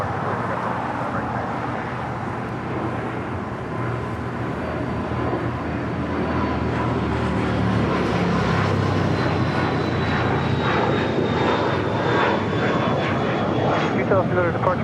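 An airliner departs from a runway at LAX airport, its broad jet roar loud and steady across the whole stretch while a faint rising whine runs above it, with radio voices talking underneath.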